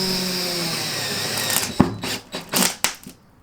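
A power drill drives into a thin plywood subfloor in a van build, a steady whine for about a second and a half followed by sharp bursts and knocks as the bit bites and stops, quite close.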